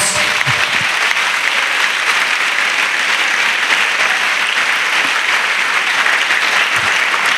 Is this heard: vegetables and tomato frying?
no